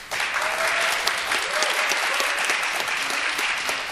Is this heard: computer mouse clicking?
no